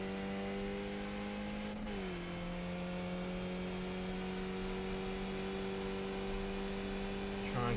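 Race car in iRacing, a Skip Barber car at Phoenix, with its engine held at full throttle: a steady, loud, droning whine. The pitch dips briefly near the start and then holds level.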